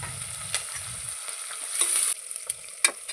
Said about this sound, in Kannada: ಈರುಳ್ಳಿನೂ ಚೆನ್ನಾಗಿ ಫ್ರೈ ಮಾಡ್ಕೋಬೇಕು.